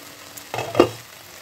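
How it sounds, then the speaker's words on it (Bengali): Cooked millet rice being stirred in a pan, two short, soft scraping strokes in quick succession over a quiet background. "একটু নাড়িয়ে চাড়িয়ে নেব"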